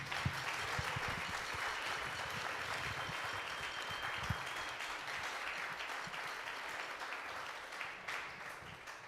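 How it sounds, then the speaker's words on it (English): Sustained audience applause for the performer Uncle Mordechai at a Succos show, a continuous even wash of clapping with a few louder nearby claps early on, lasting around nine seconds. "Let's give a big round of applause to Uncle Mordechai"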